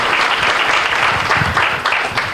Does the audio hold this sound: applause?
yes